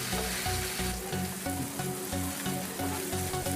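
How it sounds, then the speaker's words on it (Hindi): Paneer pieces frying in oil in a pan until lightly browned, a steady close sizzle with soft scraping and stirring clicks throughout, no talking. "हल्का लाल होने तक फ्राई करेंगे"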